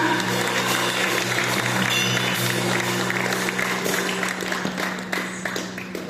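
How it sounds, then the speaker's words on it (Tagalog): A church congregation applauding loudly for God during a worship service, a dense, steady wash of clapping that holds strong, then thins and softens toward the end over a low hum. "bigyan pa natin ng isang malakas na palakpak ang ating Diyos na buhay"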